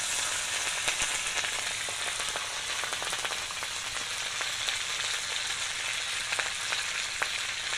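Curry leaves and chopped tomato sizzle in oil in a frying pan, giving a steady, fairly quiet hiss dotted with sharp pops and crackles throughout, with no voices.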